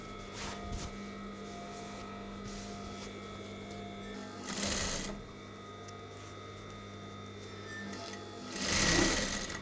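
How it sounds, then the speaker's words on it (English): A sewing machine runs steadily while stitching tape onto a curtain, its motor hum continuous and close, swelling louder in two brief bursts near the middle and end; no one speaks. "this machine all the way to the end and then back and forwards a couple of times just to secure."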